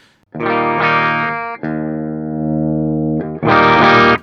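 Electric guitar played through a Synergy Syn20IR amp with an OS overdrive module, giving rich, distorted sustained chords: one ringing strum, a longer held chord, then a bright loud strum at the end.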